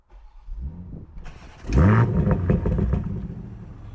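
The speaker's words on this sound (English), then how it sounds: "Now, let's start the car." A BMW M240i xDrive engine cranks and fires up in Sport Plus mode with a loud, throaty rev burst, then settles into a rumbling idle close by.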